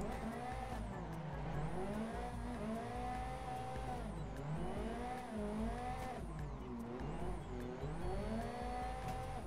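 Race car in Assetto Corsa, a video game, engine roaring steadily with rising and falling revs as it handbrakes into a corner, tyre squeal faintly woven through the loud continuous drone.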